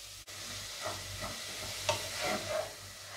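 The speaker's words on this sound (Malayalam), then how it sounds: "ഇതിലേക്ക് നമ്മൾ ചെറുതായിട്ട് അരിഞ്ഞു വെച്ച ഉള്ളി ഇട്ട് കൊടുക്കുക. അപ്പോൾ ഇതിന് നന്നായിട്ട് വഴറ്റിയെടുക്കുക." Chopped onions sauté in a pan for a prawn chatti pathiri dish, a soft, steady sizzle up close with a few stirring scrapes, fairly quiet and without talk.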